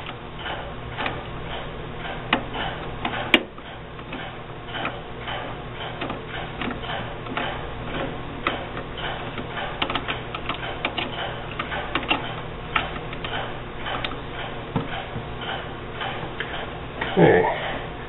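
A ball-end Allen wrench works a bolt behind a chain during a PMC drop mechanism installation, giving a steady run of light metallic ticks and clicks, close and fairly quiet, with a brief louder knock near the end.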